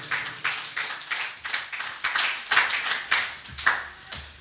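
A church congregation claps together during a French-language sermon, a steady run of sharp hand claps repeating roughly every third of a second for several seconds, fairly close and lively, with no talking over it.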